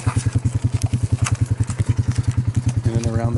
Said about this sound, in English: jumped on the four-wheeler and was kind of riding the four-wheeler through some of this open country up here